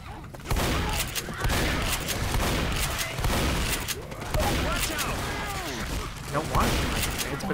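Gunfire rattles through a zombie-shooter round of Left 4 Dead, with bursts of shots and crashes in quick succession alongside clanking mechanisms, loud and dense across the whole stretch.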